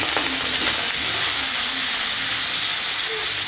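Garlic, ginger and green chilli sizzle in hot oil for shahi paneer, a loud, steady, close hiss of frying that never lets up.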